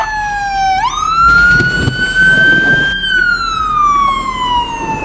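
An ambulance siren at a traffic accident scene: a loud wail rises sharply, holds a long high tone, then slowly falls, with traffic rumble underneath and no talking.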